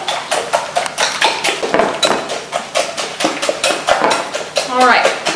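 Eight eggs whisked briskly in a bowl for a frittata, a fast run of close, loud clinking taps of the whisk against the bowl's sides.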